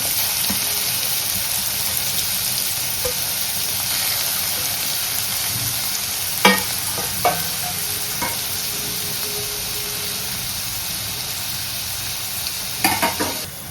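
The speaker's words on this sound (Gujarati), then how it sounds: "હવે જે છે એ શાક મેં અહીંયા નાખી દીધું છે" Vegetables are stirred into healthy vegetable khichdi cooking in a pot, giving a loud, steady sizzling hiss throughout with a few light spoon scrapes and clicks against the pot.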